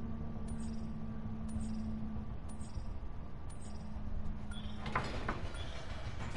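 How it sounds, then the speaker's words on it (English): A distant train rolls past in the video game Apex Legends, a steady rumble with rhythmic clickety-clack and repeated metallic chimes, ending in a burst of louder clatter. "I see a train. It is distant."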